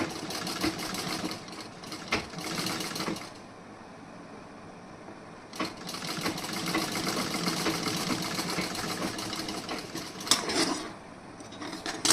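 A sewing machine runs stitches along the back piece of a blouse, humming and whirring in long continuous stretches with a few brief pauses and clicks between runs.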